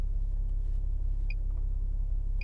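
A 2020 Toyota Supra accelerating hard from a standstill to 60 mph, heard as a loud, steady, deep engine and road rumble that stays close and constant.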